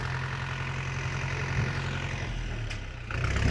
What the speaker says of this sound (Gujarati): અમારો ટ્રેક્ટર ખાલી થાય છે